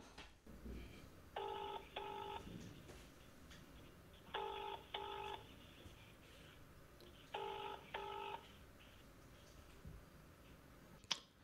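A telephone call rings out in three faint double-burst ringing tones, evenly spaced, with a quiet background and a small click at the end.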